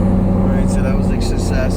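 A 2018 Mustang GT with twin turbos starting up, a loud close engine rumble running steadily throughout the short moment.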